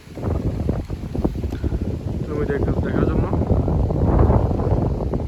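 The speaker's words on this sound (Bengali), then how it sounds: "প্রচুর মেঘ, প্রচুর বাতাস বইতেছে, কখন জানি বৃষ্টি পড়ে" Strong wind blows outdoors under a heavily clouded sky, roaring steadily and buffeting the microphone throughout while someone talks over it.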